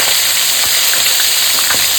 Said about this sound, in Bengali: এখন আমি তেলাপিয়া মাছগুলো একটু লালচে লালচে করে ভেজে নেবো।